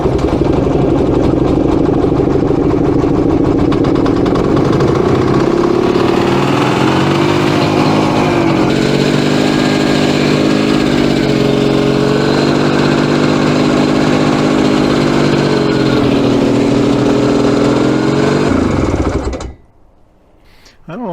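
A Cushman Trackster engine cranks and fires, then runs steadily at a loud, close idle with a throbbing mechanical drone for most of the clip before cutting off abruptly near the end.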